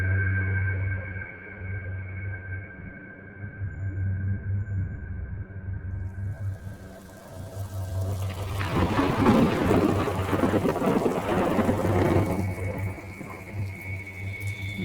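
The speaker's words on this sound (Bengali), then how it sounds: "টিনের ছাউনিতে টুপটাপ শব্দটা যেন রতন কাকার দোকানের ছাউনির মতোই শোনা যাচ্ছে" Rain falls steadily at night during a storm, a continuous pattering wash that swells louder midway, with a low droning tone underneath throughout.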